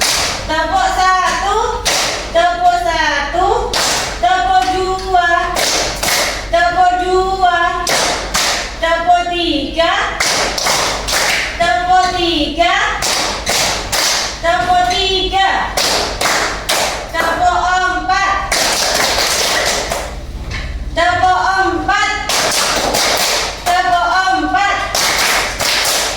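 A school class claps along in a rhythm game: sharp bursts of group clapping come in repeated short sets, alternating with a lively chanting voice that leads each round, loud and close in the room.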